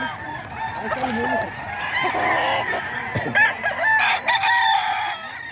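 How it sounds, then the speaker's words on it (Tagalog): Many chickens cluck busily nearby while roosters crow repeatedly over them, and a voice speaks briefly in the background. "Ang daming manok dito mga kaidol."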